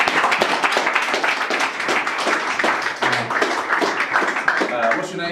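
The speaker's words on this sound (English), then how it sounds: "Round of applause." Audience at a comedy gig in the Cowgatehead venue applauding a round of claps, dense and steady throughout with some scattered voices mixed in.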